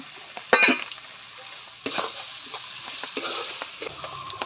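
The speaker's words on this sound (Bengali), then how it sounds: "এটা একটু হালকা করে ভেজে নেবো পেঁয়াজটা" Chopped onion fries gently in oil in a wok, a soft low sizzle broken by a few louder scraping stirs of a spatula against the metal, close and without talk.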